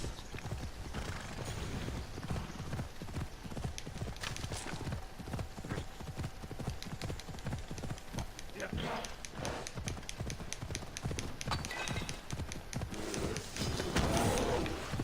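Steady, rapid hoofbeats clip-clop throughout, a horse trotting along at a constant pace in Assassin's Creed Odyssey, with game music and effects layered underneath.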